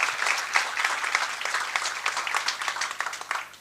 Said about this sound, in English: Round of applause, guys, for yourselves, for Lucy, for the State Library